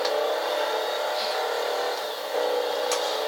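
The Rat Truck, a 1940 Chevrolet pick-up in GTA 5, gives a loud, sustained engine drone as it revs, holding steady with a brief dip near the end.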